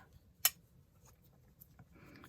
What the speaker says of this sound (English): I'm gonna need some tiny scissors to get in and slip that thread